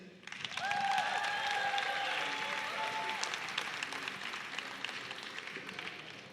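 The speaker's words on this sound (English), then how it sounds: "Give a round of applause to Elsie." Live audience applause at the Roundhouse, a dense burst of many hands clapping that swells in and holds steady for several seconds, with brief whistles and cheers near the start.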